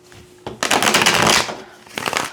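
Tarot cards being shuffled up close during a reading: a quick riffle starts, swells into a dense rush of flicking cards, then fades, with a second shorter burst at the end.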